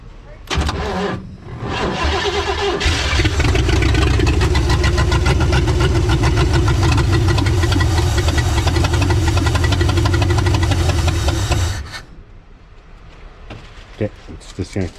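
A previously seized 400 engine cranks, catches and runs loud and close for about ten seconds with a rough, knocking idle, then cuts off, leaving a few quieter clicks and clanks.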